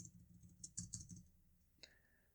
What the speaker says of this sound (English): when I click something on my keyboard